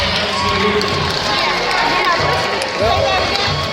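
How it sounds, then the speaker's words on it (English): A boxing arena crowd claps and cheers together in a dense, continuous roar of applause, with voices mixed in throughout. "A round of applause if you like to see it"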